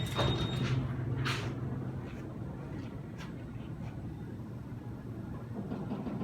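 A ThyssenKrupp hydraulic scenic elevator door slides shut at a water park lodge in Niagara Falls, a steady low mechanical rumble with a hum and a few soft clicks continuing throughout, no talking.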